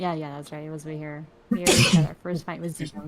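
A single sharp sneeze bursts out loud and close in the middle of a casual conversation, with people chatting before and after it.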